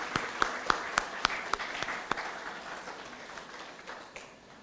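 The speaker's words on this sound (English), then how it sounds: "Let's give our new author a congratulatory round of applause." Congratulatory applause for a new author at a book launch, a small group whose distinct sharp claps stand out at first, then thin and fade toward the end.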